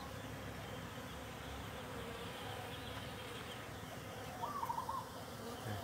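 Bees buzzing around blooming coffee flowers on a Central Highlands plantation in spring, a steady faint outdoor hum with a brief bird coo near the end.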